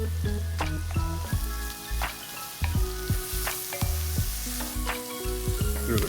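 Maque choux vegetables with chopped tomato sizzle and fry steadily in a pan, with intermittent stirring scrapes and clinks over the continuous hiss; no talk.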